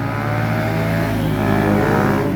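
A Raider motorcycle revs past in a steady, loud engine roar with layered harmonic drone, rising slightly toward the end, no talk over it.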